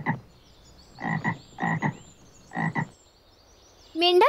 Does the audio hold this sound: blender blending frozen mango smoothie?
no